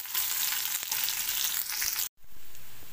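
Onions fry toward golden brown in a pan with a loud, steady sizzle. It cuts out sharply for a moment near the end and then resumes.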